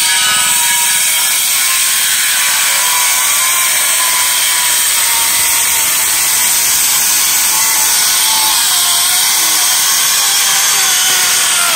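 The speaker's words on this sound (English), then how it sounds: "Cut all these curves with the circular saw as well." Circular saw cutting shallow curves into wood on a portico build, a steady, loud high-pitched whine of the blade running continuously and close throughout.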